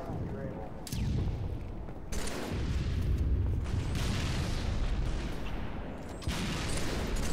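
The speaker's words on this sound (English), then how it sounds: "Get some very nice shots in the camo guy" Gunshots and booming blasts in the Halo 3 video game, heard as irregular bursts with heavy low-end thumps amid ongoing game noise, moderately loud.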